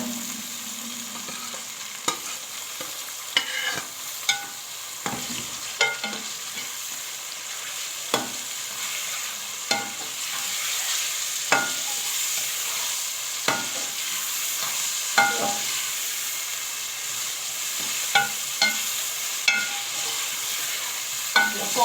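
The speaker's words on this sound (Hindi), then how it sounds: "अब हम इसमें मैरिनेट किया हुआ चिकन डाल देते हैं।" Marinated chicken for biryani frying in a pot while being stirred, a steady close sizzle with repeated scraping clicks of the spoon against the pot throughout.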